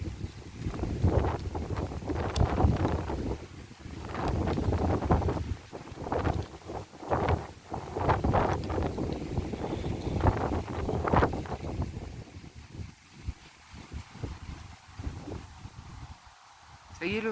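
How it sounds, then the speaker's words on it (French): Wind buffets the microphone in loud, low rumbling gusts that rise and fall, easing off near the end; talk is faintly audible underneath. "Ça y est, le vent s'est calmé?"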